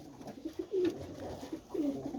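Pigeons coo in an evening coop, soft repeated rolling calls rising and falling close by, several overlapping phrases with quiet rustling between them and no voices.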